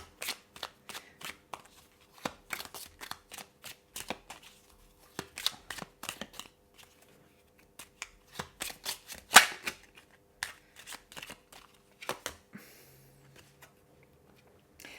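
Tarot cards are shuffled and handled on a table, giving a string of quick, dry, papery flicks and taps in uneven bursts with short pauses, fairly close and quiet, with no talking.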